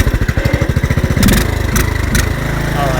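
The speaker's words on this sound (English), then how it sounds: "I'm going to try to shut it off that way and then start it. See if I still get a backfire at the start." An old Craftsman lawn mower with a reconditioned engine is pulled over, chugging in rapid rhythmic strokes before catching and running loudly up close, with a few sharp bursts as it settles to a steady idle.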